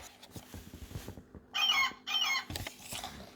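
Seagull call from a Thomas and Friends children's sound book, two loud bursts of harsh squawking back to back at close range after quiet page-handling noises.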